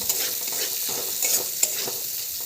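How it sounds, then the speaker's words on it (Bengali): Chopped tomatoes are stirred into a spice paste frying for a vegetable dal, giving a steady close sizzle with soft, repeated scraping strokes of a spoon against the pan. "টমেটোগুলোকে একটু নাড়াচাড়া করে"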